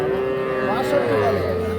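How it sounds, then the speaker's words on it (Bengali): A young Sahiwal bull calf lows at a livestock market, a loud, drawn-out moo near the microphone with faint crowd chatter behind it. "দুটোই কিন্তু শাহিওয়াল ষাঁড় বাছুর।"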